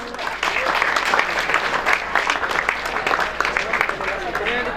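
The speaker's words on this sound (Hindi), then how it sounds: "जोरदार तालियां" Dense audience applause fills a school farewell party, continuous steady clapping from a large crowd, loud and close, with voices mixed in.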